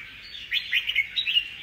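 A wild-caught songbird sings in a cage, a quick, bright run of chirps and twitters repeating over a second and a half, close and fairly clear against a faint background.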